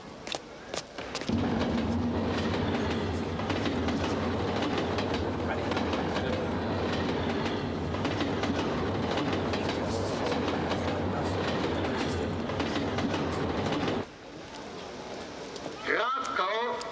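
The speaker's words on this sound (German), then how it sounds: "Der Zug pünktlich ist, fährt er in 1 Minute ein." A train rolls into Kraków main station with a sustained close rumble and rail clatter that drops off near the end as it slows, and voices can be heard around it.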